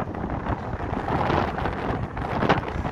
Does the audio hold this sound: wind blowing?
yes